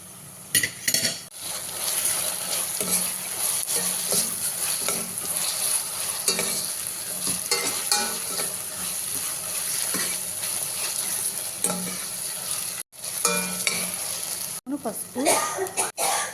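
Curry leaves and garlic with onions sizzle steadily in hot oil, a dense continuous frying hiss with occasional stirring scrapes and light clinks of a utensil against the pan, running nearly unbroken with a couple of brief gaps.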